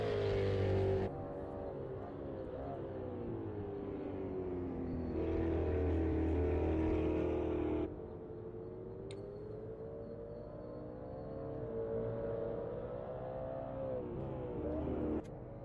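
A Ultima GTR race car in the Automobilista 2 racing game roars steadily through a flying lap, its engine note rising and falling with shifts and revs, loud and continuous throughout.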